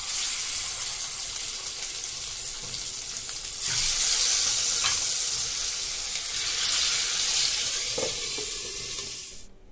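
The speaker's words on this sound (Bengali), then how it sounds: "মাছটা আমি ভেজে নিচ্ছি।" Rohu fish frying in a little oil in a pan on a gas stove gives a steady broadband sizzle that swells around the middle and fades near the end, with a faint clink or two and no talking.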